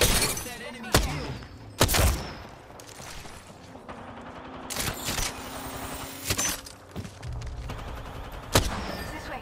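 Enemy gunfire during an Apex Legends ranked match, sharp bursts and single shots cracking out at irregular intervals amid game sounds, with a voice speaking between them.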